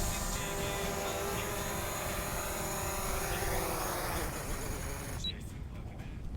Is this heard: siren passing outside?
no